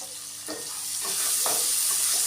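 Onions with salt and turmeric frying in a pan, a bright steady sizzle that grows slightly louder, with two or three spoon scrapes as they are stirred, up close with no voices.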